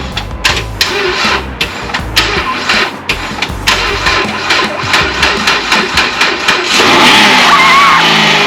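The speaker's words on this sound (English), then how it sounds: "We're going to try to start the Pacifica now." A Chrysler Pacifica with a dead battery cranks repeatedly after a jump start in a Minnesota winter, making a fast rhythmic churning at close range that catches and fires into a loud running engine near the end.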